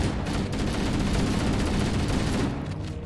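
Sustained automatic gunfire aimed at an Elite in a Halo shooter game, a loud, unbroken burst of overlapping shots close by that tapers off near the end.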